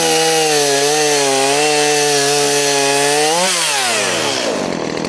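A freshly serviced chainsaw runs at high revs with a steady buzzing whine, its pitch dipping as it bites into wood, then dropping away as the cut finishes; loud and close, no talking.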